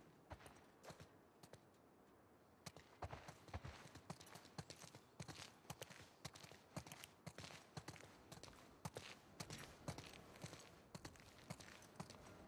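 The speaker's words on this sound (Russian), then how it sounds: "Пойдем за лошадьми." Horses' hooves clip-clop at a walking pace in The Last of Us Part II, an irregular run of close hoof strikes over quiet game ambience.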